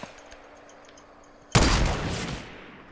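Gunfire from a Fortnite gunfight erupts abruptly partway through, a loud dense burst of shots that then trails off over quiet game ambience.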